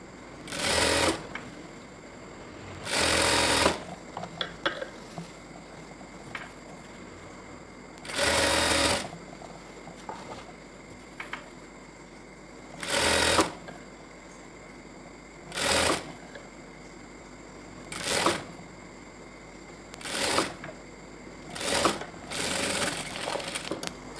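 A sewing machine stitches thread piping onto a blouse in loud, near bursts of whirring, a few long runs and then quicker short ones, separated by quiet pauses with faint handling noises.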